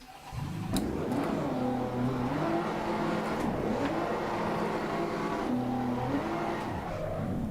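A McLaren 720S GT3 Evo race car in Assetto Corsa Competizione revs hard and steadily, its engine note climbing and dropping through gear shifts with faint tire squeal, loud and close throughout.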